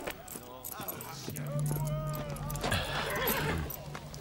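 A horse neighs loudly with a long, wavering whinny, while clip-clop hooves and shuffling sound close by and voices briefly talk around it.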